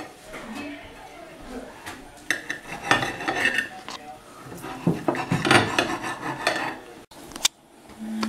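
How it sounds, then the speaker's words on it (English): A knife slicing salmon into half-inch pieces on a board, with knocks, scrapes and clatter of utensils throughout, close and moderately loud, under a person talking. "I'm going to cut the salmon in about ½ inch sizes."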